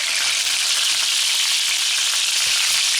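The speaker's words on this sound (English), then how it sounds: "Now I'm going to flip them, and I have this on a pretty high heat here just because I want it to get crispy." Chicken pieces sizzle hard in a pan on high heat, skin crisping, giving a dense, steady hiss that runs unbroken.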